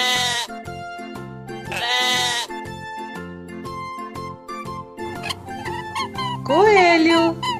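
A sheep bleats in a children's farm-animal song, with a wavering cry near the end riding loud over the steady, upbeat music.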